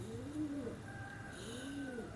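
Ferozpuri pigeons cooing up close, two soft rolling coos in a slow rhythm, alone with no talk.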